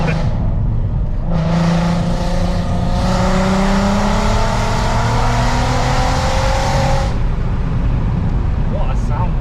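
Straight-piped VW Golf R32 accelerating hard in first gear: a loud, raspy engine climbing steadily in pitch for several seconds, then cutting off into a steady background rush.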